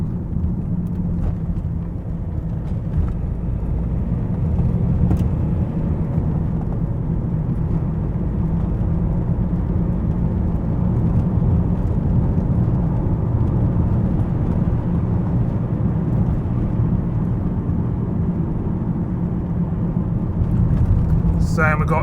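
Car cruising along roads through small coastal villages on a windy, stormy day, a steady low engine and road rumble filling the cabin while someone talks throughout.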